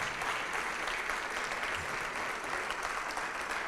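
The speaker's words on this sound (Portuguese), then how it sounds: "vamos aplaudir mais ao nome de Jesus" A church congregation applauds in the name of Jesus, a continuous, even roar of many hands clapping together from start to finish with no voices standing out.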